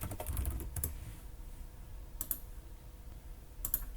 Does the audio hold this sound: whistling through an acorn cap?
no